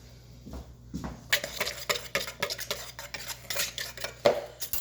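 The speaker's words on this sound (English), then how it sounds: "I'm going to grab my magical whisk." A whisk beats gingerbread muffin ingredients in a bowl with quick, irregular metallic clinks and scrapes against the sides, close and moderately loud.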